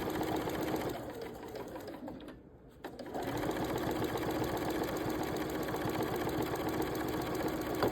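A sewing machine, freshly oiled and with a new needle, runs steadily as it stitches a quarter-inch seam through a batting-filled table runner, with a continuous, even mechanical whir and one short pause partway through.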